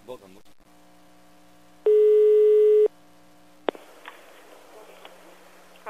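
Telephone busy tone heard after the other party hangs up on a prank call, a steady electronic beep lasting about a second, then line noise, with a faint hum and brief voice sounds around it.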